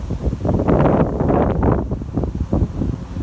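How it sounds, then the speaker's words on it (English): Strong outdoor wind buffets the microphone with a loud, continuous low roar that swells in gusts, with no talk over it. "It's always windy over here."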